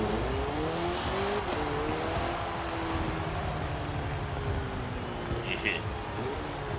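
A C-class car in the video game Forza Horizon 4 drives on, its engine droning and shifting pitch through gear changes, steady and close, under someone talking throughout.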